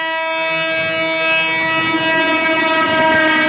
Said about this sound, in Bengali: এই লাইন দিয়েই ইলেকট্রিক লোকোমোটিভ দিয়ে হাই স্পিডের একটা ট্রায়াল দেওয়া হয়েছে